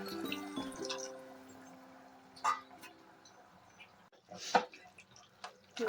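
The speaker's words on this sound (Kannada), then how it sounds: "ನೋಡಿ, ನಾನು ಇದಕ್ಕೆ ಸ್ವಲ್ಪ ನೀರು ಹಾಕ್ಕೊತಾ ಇದ್ದೀನಿ." Water is poured into a pot of bisibelebath with tamarind on the stove, giving soft trickling and dripping sounds along with faint utensil clinks in a quiet kitchen.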